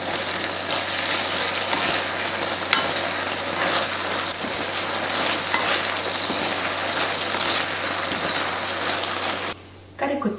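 Shishito peppers and lotus root simmering in a pan with sesame oil as a glossy Korean braise: a steady, close sizzle and bubbling crackle with scattered small pops, continuous until a short dip near the end.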